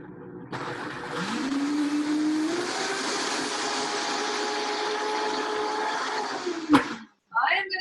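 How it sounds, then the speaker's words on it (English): A big kitchen blender runs loud and steady for about six seconds, a whining motor hum that rises as it spins up, then cuts off with a clunk. "The big blender."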